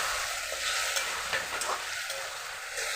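Potatoes stirred into a frying spiced masala for a singi fish and potato curry, a steady close sizzle with scraping spoon strokes running throughout, no voices.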